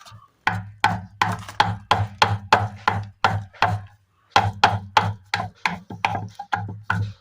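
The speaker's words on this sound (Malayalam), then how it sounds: "ഇതുപോലെ ചെറിയ ഓട് കഷ്ണം മതി നമുക്ക് ഈ ഓട് ചെറുതായിട്ട് ഒന്ന് പൊടിച്ചെടുക്കാം" Small piece of clay roof tile pounded into powder with a chunk of jackfruit wood, a steady run of dull, hard, close knocks at about three per second, with a brief pause midway.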